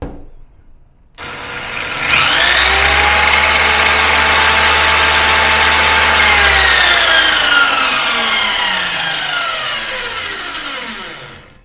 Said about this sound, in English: All right, circular saw time.